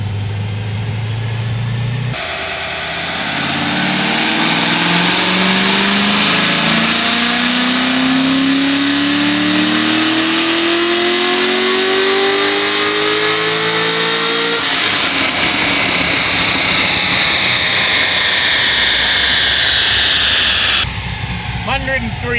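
Corvette C6Z with a heads and cam package roaring through a dyno pull, the engine note climbing steadily in pitch as revs build, then dropping off into a lower, rougher tone, loud and close throughout.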